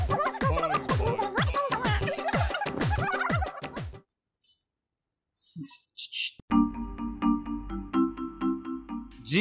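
A phone ringtone plays a repeating electronic melody for several seconds, loud and close, after a stretch of silence.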